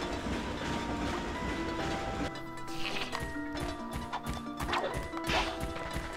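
Train in the Ratchet & Clank video game: clattering rail rumble with sharp clanks and whacks over steady rolling noise, moderately loud, with faint game sounds layered on top.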